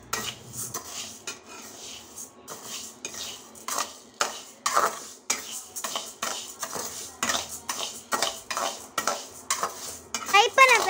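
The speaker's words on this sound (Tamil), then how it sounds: "கடாயில் போட்டு லைட்டாக ஃப்ரை பண்ணிக்கணும்." Moong dal being lightly fried in a kadai while a metal spoon stirs it, giving a steady series of close scraping clinks against the pan and a faint sizzle underneath.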